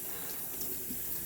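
Tap water runs steadily over cucumbers being rinsed at a sink, a continuous close splashing hiss with no talking.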